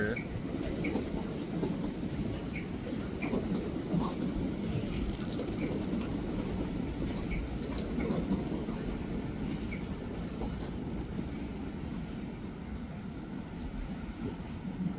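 A train rumbles past nearby in Prague, a steady low roar with rattling carriages holding throughout.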